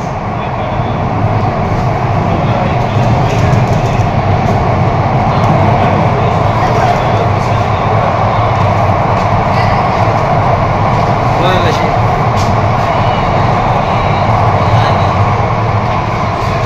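Running Aqua Line metro train in a Mumbai tunnel, a constant heavy rumble and whoosh lasting throughout at steady loudness, with speech heard above it.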